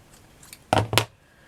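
Scissors snipping satin fabric into a cone shape for a flower, two quick close crisp cuts after a faint earlier click, with quiet room background.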